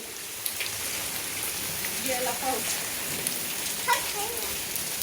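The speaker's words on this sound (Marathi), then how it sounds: "आज सकाळी सकाळी धब धब धब धब पाऊस सुरू झालेला आहे" Steady rain patters on surfaces nearby, a dense hiss with scattered louder drops and faint background voices.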